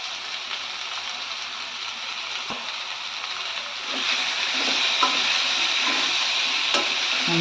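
Continuous hissing sizzle of raw mango pieces with salt and turmeric frying in hot oil, growing a little louder midway, with occasional faint stirring clinks.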